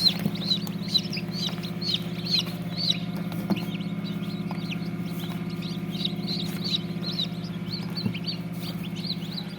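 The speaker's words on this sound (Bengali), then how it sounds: "সুন্দর বাচ্চা চীনা হাঁসের বাচ্চা" Chinese duck chicks cheep steadily in a brooder alongside chicken chicks, a dense chorus of high, rapid peeps over a constant low hum.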